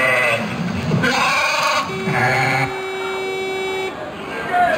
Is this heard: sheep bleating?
yes